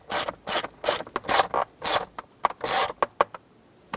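Screws being driven into plastic on the console lid of a 2007-2014 Chevrolet Silverado 2500HD, heard as a close, loud ratcheting burst of clicks in rapid clusters that trails off into a few separate clicks, with no talking.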